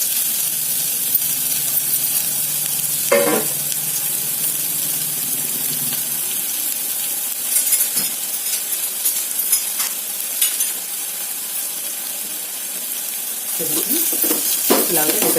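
Four onions sizzling in a pan over medium-high flame for a simple potato curry, with steady frying hiss, occasional stirring scrapes and brief water or utensil sounds, no talking.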